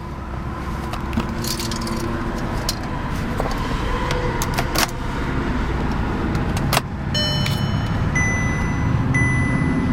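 A 2008 Audi TT 3.2 Quattro with a 6-speed manual sits running, its engine giving a steady close rumble with scattered clicks and taps, and a few electronic chime tones near the end.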